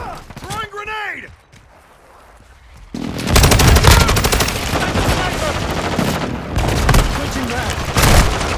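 Grenade throw and blast amid heavy gunfire in Call of Duty Modern Warfare 2 multiplayer Hardpoint, with a brief voice line early, then a sudden loud burst of explosions and rapid shooting sustained to the end.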